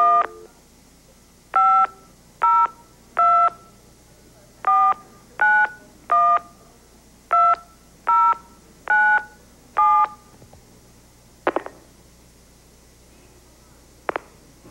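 Touch-tone dialing on a 1981 Price is Right home viewer call: about a dozen crisp, evenly spaced beeps in quick succession, then a couple of sharp line clicks, clear and close.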